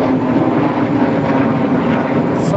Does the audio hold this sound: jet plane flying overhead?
yes